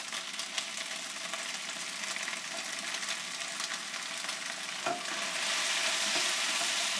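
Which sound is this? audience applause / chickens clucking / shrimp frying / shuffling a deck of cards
shrimp frying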